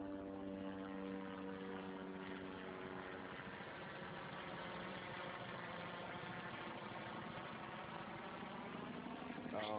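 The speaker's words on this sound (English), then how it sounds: "So here's another helicopter." A helicopter's continuous low engine drone with steady harmonic hum, quite faint and distant, unchanging throughout with no voices.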